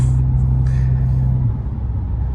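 A Mk8 car with a new exhaust holds a loud, deep, steady drone close by, then the tone drops slightly as the revs ease off, with no talking.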